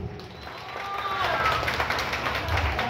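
An audience at an Odia theatre performance claps together, the applause swelling in after a quiet start and staying dense and steady, with a faint whistle and some crowd noise mixed in.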